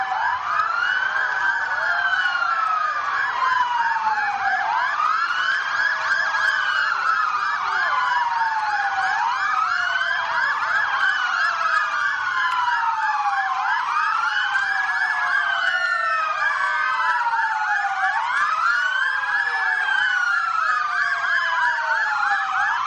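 Emergency vehicle sirens wail in a continuous, steadily rising and falling pattern at a parade, overlapping and sustained, fairly loud throughout with no talk over them.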